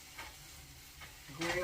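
Spinach sizzling and frying in a pan for a spinach dip, with a steady low hiss and a few stirring scrapes, and a louder burst of sizzle near the end.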